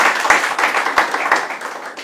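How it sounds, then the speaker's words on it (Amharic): A live quiz-show audience breaks into applause, a dense burst of many hands clapping close and loud, then tapering slightly toward the end. "አጨብጭቡለት።"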